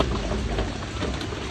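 Rain falls steadily as a dense, even hiss and patter that holds at a constant level throughout, with no voices present.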